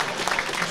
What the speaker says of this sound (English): The crowd shows their appreciation.